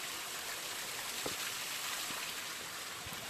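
Fresh, very cold water pours steadily into a container outdoors on Mount Wellington near Hobart, Tasmania, making a continuous soft hiss and trickle at low level with no voices.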